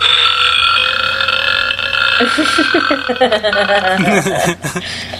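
A long, loud croaking burp rumbles out after a noisy stretch, stuttering and gurgling for a few seconds.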